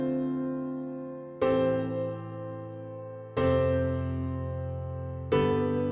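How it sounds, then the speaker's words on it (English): Sustained harmonic chords change at regular intervals, each new chord striking at roughly two-second spacing in a short looping sequence, clear and upfront with no voices. "It's usually 2, 3, or 4 chords in a sequence,"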